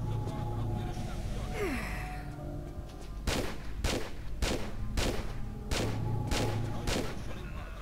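Sharp gunshots crack in a quick irregular series of about seven, heard over a steady background hum of game ambience in Tomb Raider Quest of Gold.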